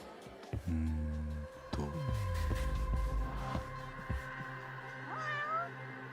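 A cat meows once in the video game Judgment, a short, rising, fairly clear call heard near the end over a low hum and background game ambience.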